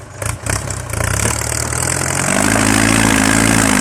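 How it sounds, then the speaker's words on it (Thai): A Ford 6600 tractor engine on farmland, loud and close, with a few chugging bursts before settling into a steady heavy diesel drone that deepens and thickens toward the end. "วันนี้พามาชมครับรถไถฟอร์ดครับ ของเจ้าคุณปู่ครับ"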